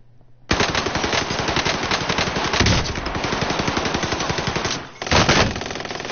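Sustained automatic machine gun fire in a PlayStation 4 first-person shooter, loud and continuous bursts of rapid shots for several seconds with a brief pause near the end before firing resumes, no talk over it.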